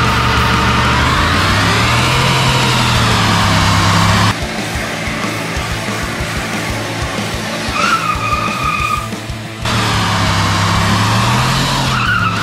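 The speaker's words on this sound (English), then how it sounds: "The U-Haul truck rips!" A rented U-Haul truck driven hard, its engine droning and tires skidding and squealing loudly and continuously, with a brief lull before the screeching engine note swells again.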